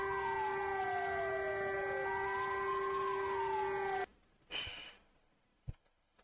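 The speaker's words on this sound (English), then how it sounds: "That's why you have an air raid siren." A siren wails for about four seconds, its steady tone sliding down and back up against a sustained drone, then cuts off abruptly, leaving a few scattered bumps and noises.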